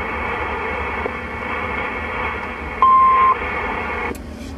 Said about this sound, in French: il y a juste le Roger Beep là, qui se fait entendre.